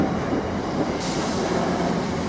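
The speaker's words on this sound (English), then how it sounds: "66719 is passing through platform 1 with an intermodal in tow" A Class 66 diesel locomotive rolls through a station platform hauling an intermodal freight train, giving a steady, loud rumble of engine and wagons close by with no voices.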